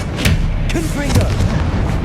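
A Confringo fire spell blast from Hogwarts Legacy on PlayStation 5, heard as booming impacts over a steady rumble while a voice shouts spell names.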